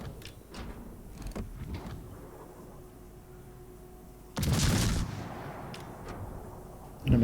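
Naval artillery fire in the World of Warships game: a few sharp gunshot cracks early on, then one louder, heavier boom midway, with faint battle noise between and no talk over it.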